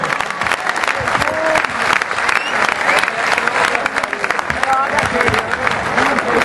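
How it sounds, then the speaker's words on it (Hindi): Dense, sustained applause from a large audience fills a festival award ceremony stage presentation in Barcelona, steady and loud throughout, with a host's voice speaking over it. "भरपूर तालियों से"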